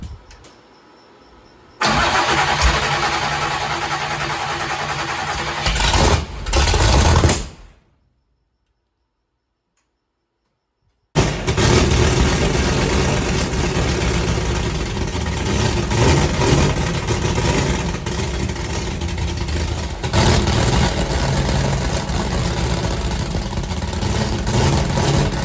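Big block V8 in a Chevrolet C10 pickup, loud and close: a short cranking burst, a brief rev, a few seconds of silence, then it fires up and settles into a heavy, rumbling idle with swelling revs that continue to the end.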